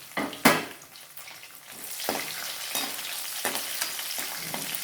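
Fenugreek, mustard, cumin, garlic, and dried and green chillies tempering in hot oil for a coconut curd chutney, sizzling steadily close by, with a few sharp scraping stir strokes and spattering pops.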